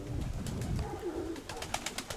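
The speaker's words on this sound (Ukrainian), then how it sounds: "Це минулорічна голубка." Soft pigeon cooing from a young hen dove in a loft, a few low murmuring calls close by amid faint rustling and occasional higher chirps.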